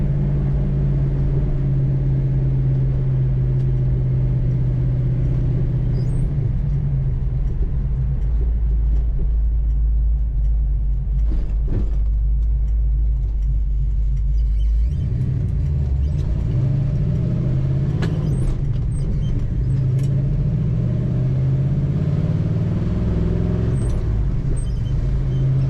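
A 1970 Chevrolet Nova drives along with a deep, steady engine rumble and road noise throughout, the engine note rising and shifting partway through as it accelerates, heard from inside the car.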